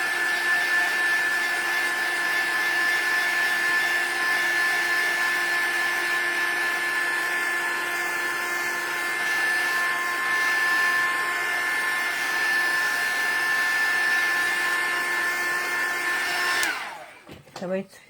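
A hair dryer drying paint blows a loud, steady, even whir for about seventeen seconds, then cuts off abruptly, leaving a few faint knocks.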